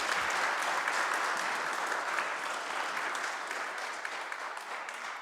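A church congregation applauds at Christmas Day Mass with steady, dense clapping from many hands that fills the room evenly and fades slightly toward the end.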